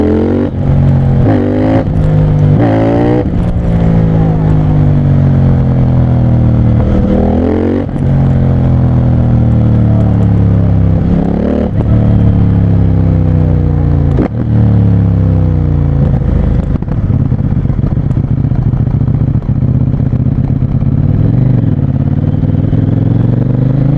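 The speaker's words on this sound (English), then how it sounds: "this bike tries to wheelie without clutch in second gear." A 100-horsepower CFMOTO 800NK street motorcycle revs hard and accelerates through the gears, its loud engine note rising, dropping at each shift and climbing again without pause.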